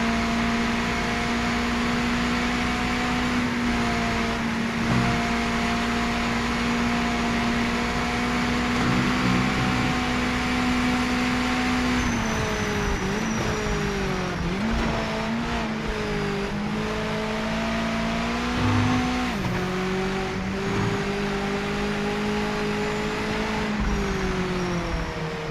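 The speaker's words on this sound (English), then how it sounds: "Ah, rev limiter got me." A race car engine in the Project Motor Racing sim on PS5 holds a high, buzzing drone near the rev limiter. The pitch wavers and stutters slightly as it sits at the limit, loud and continuous throughout with no talk.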